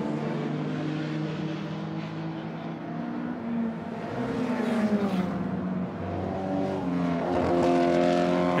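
A Maserati T61 race car, weighing 600 kilograms with over 250 horsepower, drives at the Hungaroring during a race, its engine note rising and shifting as it accelerates and revs, growing louder toward the end.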